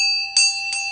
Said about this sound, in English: we need to do a bell